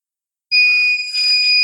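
An electronic alarm on a reloading die setup sounds as the die body is turned down, a sudden loud high-pitched steady beeping tone starting abruptly and sustained, close and clear.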